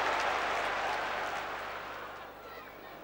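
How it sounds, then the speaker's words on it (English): A football crowd at a Sheffield United match applauds after a save, a dense, steady roar of clapping and crowd noise that slowly eases over a few seconds. "But still they applaud."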